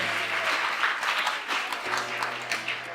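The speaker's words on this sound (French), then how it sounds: "On applaudit pour elle." Audience applause at a student show launch event, steady clapping from a moderate-sized crowd for about three seconds, fairly close and even.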